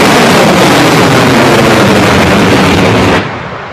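Rocket engines firing at liftoff of a spacecraft pad abort test, a loud, dense, continuous roar filling the whole clip before dropping sharply near the end.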